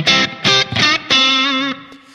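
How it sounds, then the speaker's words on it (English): Electric guitar through a Line 6 Pod HD500 modelling a Fender Twin vibrato amp, a few clean chords struck in quick succession, with the last ringing out briefly, close and bright. "So that's a pretty classic twin reverb type sound"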